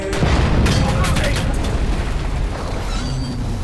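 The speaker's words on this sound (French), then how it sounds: "c'était quoi ça? Une explosion." A loud, rumbling explosion from a military action film about a Navy SEALs operation, a dense roar of low boom and debris that sustains for several seconds without fading much.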